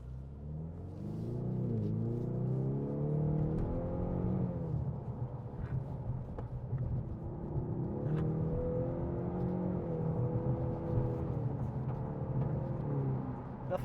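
A 2024 Ford Mustang EcoBoost with the 2.3-liter engine accelerates onto a highway, its engine note climbing through two strong pulls with a shift between them, heard close and steady from inside the car.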